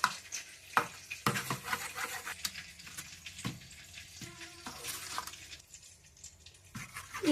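Ivy gourd chutney with yogurt being stirred, soft wet squelching and scraping with intermittent clicks of a spoon against the bowl, fairly quiet and close.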